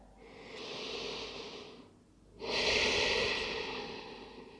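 Slow, deep breathing during a yoga child's pose in a winter solstice vinyasa flow: one long airy inhale, a brief pause, then a fuller exhale that fades out, close and soft with no talk.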